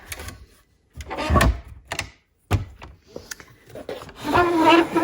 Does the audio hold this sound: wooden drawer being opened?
yes